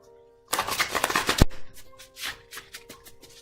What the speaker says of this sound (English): Let's do one more shuffle this way.